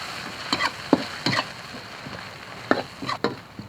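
Dried chilies and scallions hitting hot oil in a wok for a spicy beef offal dish, a steady close sizzle broken by several sharp stirring and spatula clacks, no talking.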